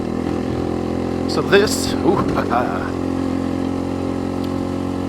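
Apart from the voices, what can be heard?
motorcycle riding on dirt roads in Sedona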